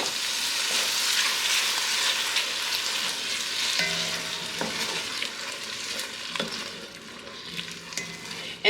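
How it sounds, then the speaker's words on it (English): Tomato sauce from a can is stirred into a soup pot with salami, giving a steady hiss and sizzle. Soft scraping clicks from the spoon sound now and then, with no talk. "Now I'm going to go ahead and add in my 1 can of tomato sauce."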